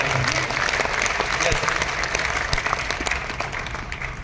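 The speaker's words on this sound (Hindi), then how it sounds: "और पीछे हाथ नहीं रहे, तो ताली से पता चल जाएगा" An audience claps together in a loud, continuous burst of applause from a large crowd at a company seminar, filling the room without pause.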